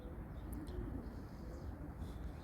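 Pigeons or doves coo softly and faintly against a low background murmur, a brief low call or two with no talk.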